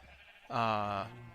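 A sheep in the video game Minecraft gives a single clear, drawn-out bleat lasting about half a second, loud and close, with faint background noise before it.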